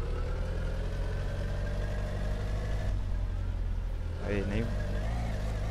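A car engine driving in My Summer Car, a steady droning hum with rising and falling revs, close and continuous, with someone talking over it briefly near the end.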